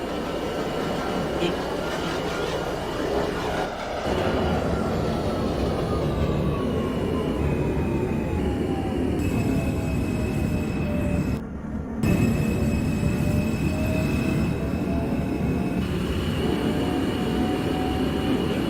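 An NYC Subway R160 train in the OpenBVE simulator runs steadily with a loud, continuous rumble and motor whine that slowly falls then levels off. A brief dropout of the noise comes near the middle.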